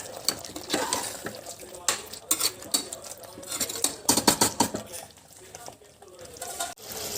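A spoon stirs roughly ground coconut through Mangalore-style mutton sukka in a pan, with close scraping and clattering strokes in uneven bursts over a soft sizzle.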